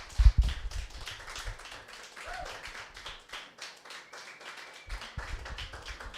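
Steady applause from a live comedy show audience, dense clapping that carries on for several seconds with a few louder claps near the start.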